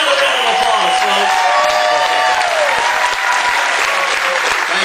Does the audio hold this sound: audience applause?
yes